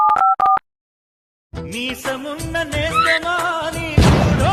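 A few short dialing beeps, then a pause, followed by a loud recorded song playing as a ringback tune over the line.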